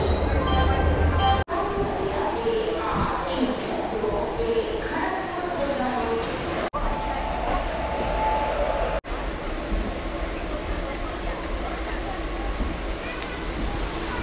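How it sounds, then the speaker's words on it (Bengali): A MEMU commuter train pulls out of Kharagpur station with a loud, continuous rumble and clatter of rolling carriages. Broadband noise fills the whole stretch and is cut by a few abrupt breaks. "ছেড়ে দিল আমাদের ট্রেন খড়গপুর স্টেশন থেকে"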